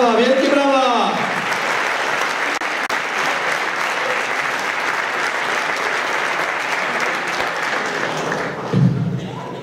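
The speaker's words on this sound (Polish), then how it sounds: "Brawa, brawa, wielkie brawa!" A crowd at a football team presentation for Stal Stalowa Wola in 2014 claps loudly and steadily. A short voice or cheer comes at the start and another near the end.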